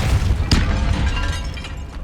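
The Depulso spell is cast in Hogwarts Legacy with a single sharp, booming burst. The burst stands out against a dense, steady wash of game sound.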